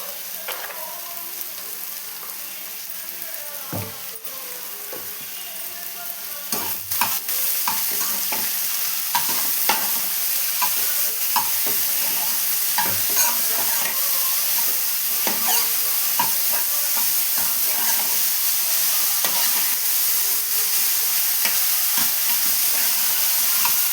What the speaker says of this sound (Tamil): புடலங்காய் சேர்த்து நல்லா வதக்கிக்கலாம்